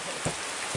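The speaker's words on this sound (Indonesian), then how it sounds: "Berburu sambil hujan-hujanan ya." Rain falls during a hunt at Cioray in West Java, a steady close hiss of drops on surfaces with a couple of slightly louder patters across this brief moment.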